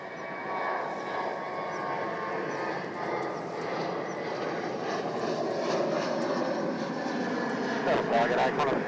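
A Virgin Australia Velocity jet departs runway 16 at Melbourne Airport, its engines a steady, loud broadband roar that builds slightly toward the end, with a voice speaking over it.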